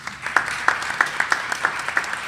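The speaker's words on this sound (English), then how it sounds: "Please give her a round of applause." A small audience at a science and art event claps for a guest, with sparse, distinct hand claps rippling at a quick, uneven rhythm, fairly close and moderately loud.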